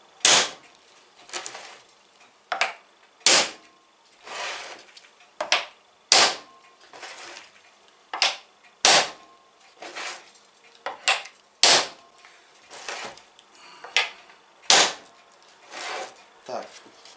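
Hoops hammered down to tighten the wooden staves of a barrel being restored, a series of sharp, loud, close blows roughly every second or so, some spaced more unevenly, each ringing briefly.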